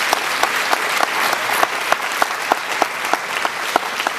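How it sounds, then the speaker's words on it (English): Sustained audience applause for Professor Roy McConkey after his plenary talk on social participation at a 2012 conference, a dense steady wash of many hands with a few sharper individual claps standing out. "Could you give him one more round of applause?"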